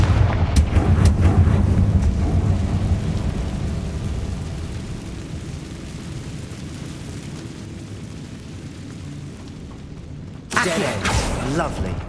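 A Confringo fire spell explodes in the Hogwarts Legacy video game, with a loud burst at the start that fades into a rumbling tail, then another sharp blast near the end.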